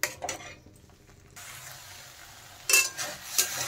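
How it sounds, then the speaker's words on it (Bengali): Spice paste for a masala mushroom dish is stirred and fried in a pan, with a few soft scrapes, then a quiet sizzle and louder spatula clatters near the end, close by, no talking. "সব মশলাগুলো এখন মিশিয়ে আমি ভালোভাবে কষিয়ে নেব।"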